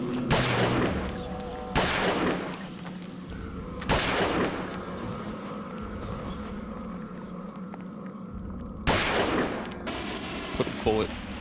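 Gunshots fired in the video game Eternal Darkness: Sanity's Requiem, four loud sharp blasts spaced a couple of seconds apart, each with a ringing tail over a steady droning game ambience.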